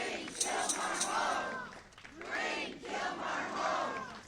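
Supporters rally outside a U.S. District Court in Greenbelt, Maryland, in a loud crowd of chanting voices that rise and fall in repeated surges, with shouts in between.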